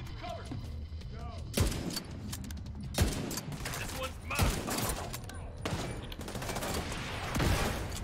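Gunfire in the shooter game Division 2, sharp separate shots cracking every second or so over a background of game noise, with a heavier burst near the end.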